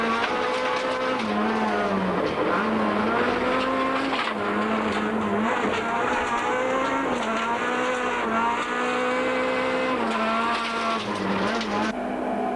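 Onboard a Toyota rally car racing on a stage, the engine droning loud and steady as revs rise and fall through gear changes, with occasional tyre noise.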